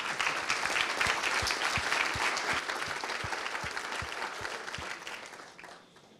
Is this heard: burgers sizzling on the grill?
no